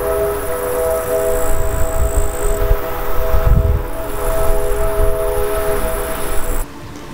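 A village civil-defense siren from the 1950s wails with a steady sustained tone that holds across several seconds, moderately loud over a low rumble before cutting off abruptly near the end.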